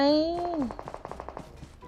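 Rapid automatic gunfire from a PUBG Mobile match, a quick burst of about a dozen evenly spaced shots over a rising electronic tone, moderately loud with a slight distant quality.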